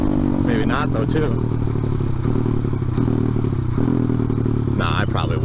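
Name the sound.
motorcycle engine running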